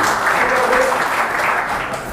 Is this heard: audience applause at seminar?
yes